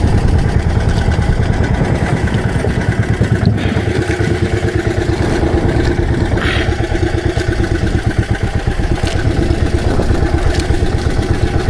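A motorcycle engine runs loud and close the whole time, a steady rough idle-like chug with rattling clatter, heard on a rural adventure ride in Surigao.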